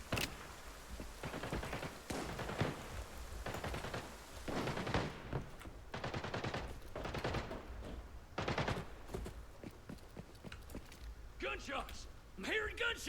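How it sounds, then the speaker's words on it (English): Gunfire rattles through a tactical shooter game in repeated bursts of rapid automatic shots separated by short pauses, fairly loud and close, with a sharper crackle of shots near the end. A player talks over parts of it. "Gunshots! I'm hearing gunshots!"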